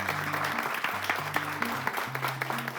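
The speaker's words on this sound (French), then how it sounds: "on va les applaudir quand même" An audience claps for the candidates standing up at a live contest round, continuous mid-level clapping lasting a few seconds, with a sustained musical tone running underneath.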